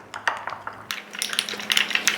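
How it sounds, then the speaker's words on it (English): A utensil clinks and scrapes against a bowl while stone ground mustard is mixed in, quick irregular taps and scrapes close by with no talking. "I'm using a stone ground. And we're just going to mix this together."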